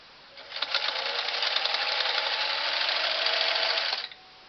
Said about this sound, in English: If it'll get under that presser foot, Singer will sew it.